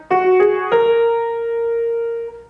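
A few keyboard notes are played on the black keys as a simple demonstration: two quick struck tones, then a third note held and slowly ringing out, close and clear with no talking.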